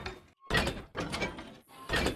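A copper chest in Minecraft opening and closing, a few short creaking, clunky bursts separated by brief silences, close and clear with no talking.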